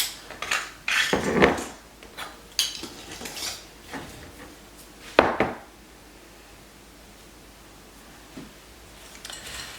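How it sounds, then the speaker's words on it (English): A spoon scrapes and clinks against a bowl while a low-carb breakfast bar mixture is stirred, in a few irregular bursts of clatter that thin into quieter scraping. "we're just going to stir all this together until it's well combined"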